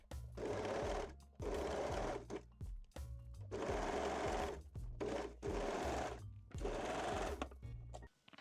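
A sewing machine stitches a crotch seam on mesh-back Brazilian panties, running in about six loud, steady bursts with brief pauses between them, close up and without speech.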